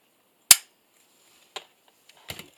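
A CZ 452 Scout rifle is dry fired, giving one sharp metallic snap of the firing pin, followed by a couple of fainter clicks of the bolt, close and alone without talk.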